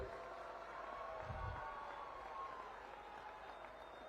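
A large crowd at an outdoor political rally claps and cheers for a local candidate, a distant, faint, continuous wash of applause with a brief low thump partway through.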